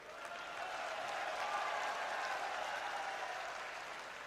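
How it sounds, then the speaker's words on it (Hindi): A political rally audience breaks into sustained applause, a dense, steady wash of clapping hands that holds evenly throughout with no voices over it. "आप ताली बजा रहे हो"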